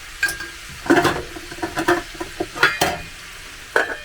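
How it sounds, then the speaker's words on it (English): Cabbage and turkey stir fry cooking down in a pan on the stove, with intermittent sizzling bursts and scraping stirs over a low hiss. "Boil that cabbage down, boys."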